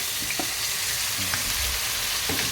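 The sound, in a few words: tomatoes added to onions frying in a pan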